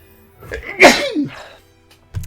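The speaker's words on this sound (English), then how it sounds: "I need to sneeze, hold on." A single loud, close human sneeze with a sharp sudden burst after a brief inhale, followed by a trailing breath and a short soft sound at the end.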